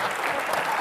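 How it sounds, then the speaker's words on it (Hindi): A studio audience claps loudly on a comedy talk show set in a restaurant, a short burst of dense, continuous applause with no voices over it. "एक बार जोरदार तालियां आप यहाँ पे"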